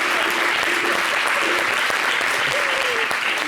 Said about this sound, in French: Est-ce que les hommes peuvent l'applaudir?